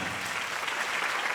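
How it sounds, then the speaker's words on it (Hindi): A short, steady wash of audience applause at a mushaira poetry gathering, even and continuous with no speech over it. "जी फिर तालियां बजा के मुझे बताया।"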